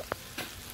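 Pork chops sear in a pan for a honey garlic dish, giving a faint, steady sizzle with a couple of brief soft ticks, heard close and alone.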